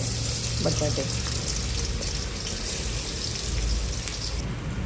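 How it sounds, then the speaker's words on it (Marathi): Peanuts roasting in hot oil for sabudana khichdi, giving a loud continuous hissing sizzle close up, with a few faint clinks and a low background hum throughout. "शेंगदाणे असे थोडे काळे जळूस्तोवर थोडेसे भाजायचे"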